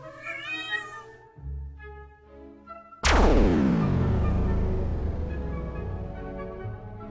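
Cartoon cat yowling while being bathed in an animated short, a wavering meow over music, then a loud crash that rings out and slowly decays.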